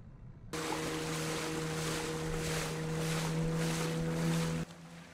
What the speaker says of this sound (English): Did our engine really die in the middle of the water?